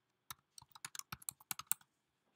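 Quick bursts of keystrokes clatter on a computer keyboard as a name is typed, about a dozen crisp, close clicks in an uneven rhythm over a quiet background.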